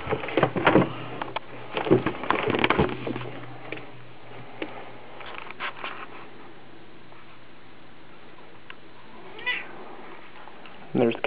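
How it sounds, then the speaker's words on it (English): A cat meows several times in close succession, near and fairly loud, then goes quiet with a faint later call, while a person talks over parts of it. "there's the cat"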